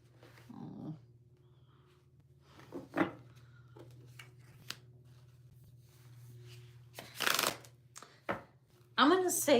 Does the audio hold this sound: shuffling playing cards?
yes